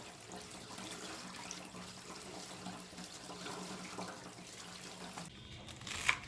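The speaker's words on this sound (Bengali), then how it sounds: "কয়েকবার পরিষ্কার পানি দিয়ে ধুয়ে নিলাম।" Tap water runs over spinach leaves being rinsed in a sink, a continuous splashing flow with small shifts as the leaves are handled, and no talking.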